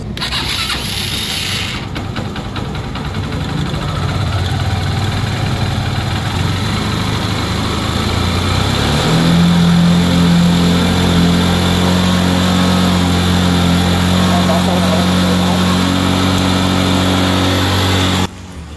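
A motorcycle engine cranks briefly and then fires up, settling into a steady, loud idle that runs on until the end, after the battery has been charged; the bike had died suddenly and would not start.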